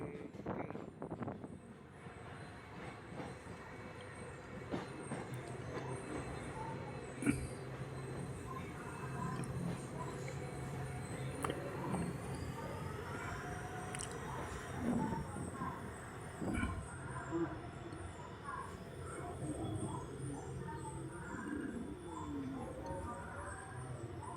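Passenger train on the Bathinda to Sri Ganganagar line through rural Punjab, a steady low rumble of wheels and carriage noise with occasional clanks and squeals, continuous throughout, heard from on board while approaching a small one-platform station.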